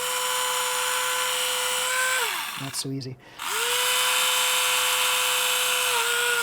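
A Tamiya Electric Handy Drill bores through plastic during a Mini 4WD build, its steady high motor whine sagging and briefly stopping before spinning back up. A person speaks briefly.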